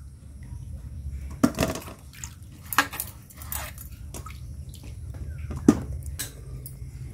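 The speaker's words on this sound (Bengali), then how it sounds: "পেয়ারাগুলো ভালো করে ধুয়ে নিতে হবে।" Guavas being washed in water in a home kitchen, with splashes, drips and a few clinks of fruit against a bowl, fairly faint over a low steady hum.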